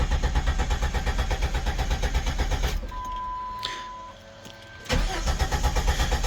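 A Jeep Grand Cherokee with a 4.0 engine, a weak fuel pump and a low tank cranks with a rapid rhythmic starter chug. The chugging pauses, then resumes loud and close.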